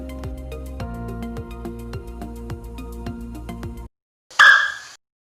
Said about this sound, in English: By this pop sound, we can prove that the gas is hydrogen.